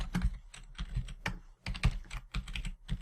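Close, rapid keystrokes on a computer keyboard while code is entered, an irregular clatter of distinct clicks with brief pauses and no voice.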